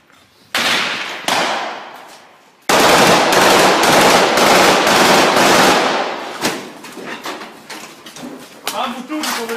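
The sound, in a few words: gunfire in combat at airport, Ukraine war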